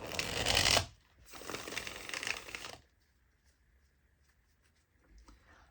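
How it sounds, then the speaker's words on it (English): Two quick bursts of a tarot deck being riffled and shuffled close up, followed by near silence with faint soft handling noises. "Shuffling this deck is so satisfying."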